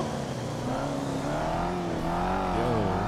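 Mercedes engine in the GTA 5 video game, a loud, steady exhaust drone with rising and falling revs as the car accelerates. No distinct crackles or pops stand out.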